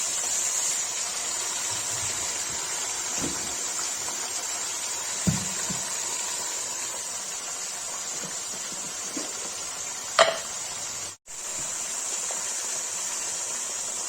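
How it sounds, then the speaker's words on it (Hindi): Mutton fries in a kadai with a continuous, even hiss and sizzle that stays steady throughout, broken by a few faint clinks and one brief dip. "मटन फ्राई के लिए रख दिया है"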